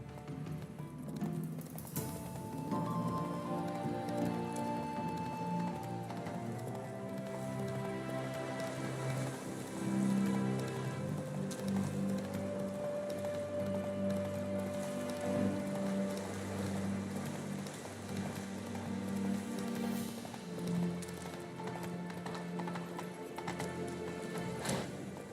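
Roach, a horse in The Witcher III video game, clip-clops steadily through rain with rainfall on surfaces, hoofbeats set against continuous tonal game music, with an occasional faint whinny.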